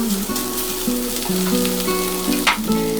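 Kheema and egg stuffing mixture frying and being stirred in a pan, a loud continuous sizzle with a steady tone running underneath and occasional scraping stirs.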